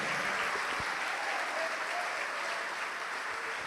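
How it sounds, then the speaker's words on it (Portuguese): A church congregation applauding, dense, even clapping from a large crowd sustained at constant loudness, sounding full and slightly reverberant, without a break. "Vamos aplaudir mais, igreja."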